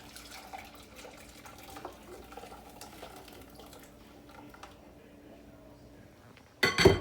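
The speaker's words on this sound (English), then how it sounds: "now I'm going to pour it into the gelatin with the gelatin that is in the bowls and stir it" Boiled water poured into gelatin in bowls in a kitchen, a soft trickle with light clinks of dishes and utensils, ending in a brief louder splash and clatter.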